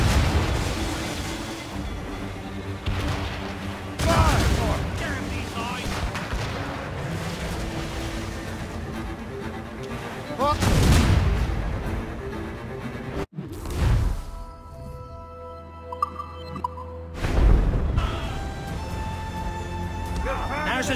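Naval cannon fire from a battle in Assassin's Creed Rogue, with several heavy booming blasts rolling out over a steady background of ship noise and shouted voices.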